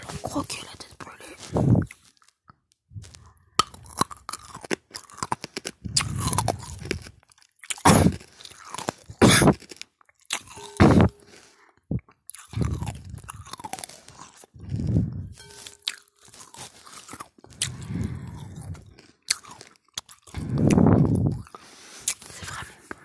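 Close, crisp crunching and biting bursts into something burnt, repeated irregularly in an intimate setting, interspersed with whispered and quiet spoken voice between the bites.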